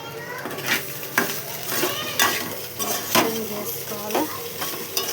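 A spoon stirs and scrapes through food in a metal pan after salt and chili powder are added, with repeated clinks and scraping strokes over a soft sizzle while a voice speaks briefly.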